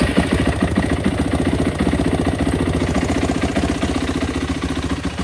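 A 2007 Yamaha YFZ 450 ATV engine running right after starting, with a loud, close, rapid and even idle thump that holds steady throughout, with no talk.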